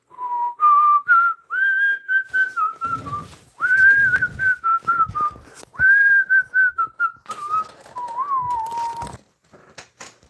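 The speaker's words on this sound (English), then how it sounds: "couldn't afford theme music, so just whistling." A person whistles a simple, wandering tune up close, in short phrases separated by brief pauses, with a few faint clicks and rustles between them.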